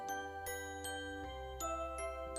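Small decorative bells and baubles on an embroidered Christmas boot ornament jingle in light, repeated tinkling strikes about every half second, fairly close, over a steady low hum, with no voices.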